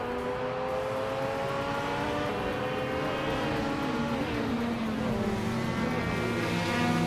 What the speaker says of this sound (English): the race kicks off at Albert Park, and leading the pack is Lord Crispy in a classic 1973 Mazda RX-3 GTI